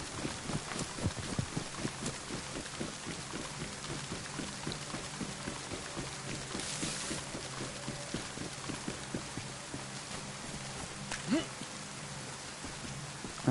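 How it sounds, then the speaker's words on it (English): Steady rain falls outdoors at a military site, a continuous patter of drops tapping on surfaces at a moderate, even level, with scattered sharper knocks throughout. "Again, more rain."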